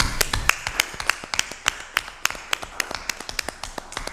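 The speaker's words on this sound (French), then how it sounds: "Une bonne main d'applaudissement s'imposerait" Sparse applause from a small group at a regular municipal council meeting: distinct, crisp individual hand claps in an irregular patter, close and clear, with no talking.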